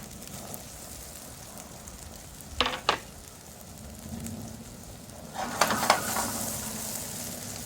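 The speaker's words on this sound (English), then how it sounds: "You want to be able to hear that little sear." Potatoes sear in a hot, oiled Teflon pan, giving a steady close sizzle and crackle with a couple of sharp scraping stirs and a louder burst of frying near the end.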